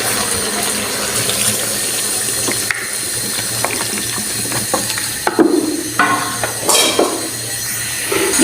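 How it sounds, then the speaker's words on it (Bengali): Water pours steadily into a pan of cauliflower and rohu fish curry, a continuous splashing stream with clinks and small knocks from the cookware toward the end. "এখন আমি ঝুল দিয়ে দিব একেবারে।"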